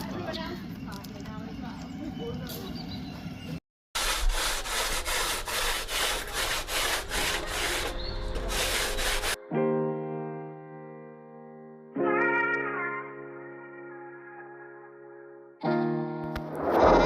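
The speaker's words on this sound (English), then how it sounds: "Meliks is shaping the top of the bumper and the corners to try and get it to fit" A car bumper is shaped and sanded to fit, with a loud, rapid rasping and grinding that runs for several seconds between quieter stretches, followed by music-like tonal passages.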